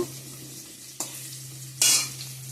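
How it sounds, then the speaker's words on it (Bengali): Potatoes frying in oil in a pan for chicken curry, a close steady sizzle with a couple of stirring scrapes and a louder hiss burst near the end, no talking. "যে মাংসের জন্য আলুটা এদিকে ভেজে রাখছি চিকেনের জন্য"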